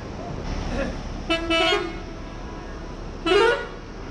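A bus horn honks in short blasts, a quick pair followed by another toot a moment later, over a steady background of traffic and engine noise, in Nepal.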